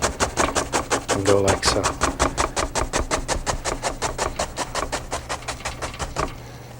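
A paint brush taps and rubs on canvas in a rapid, steady rhythm of soft strokes throughout, close and fairly loud, while someone talks briefly over the start.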